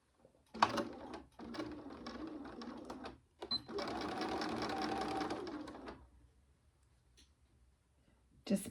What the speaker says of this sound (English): So we'll sew across the top and we'll sew across the bottom as well.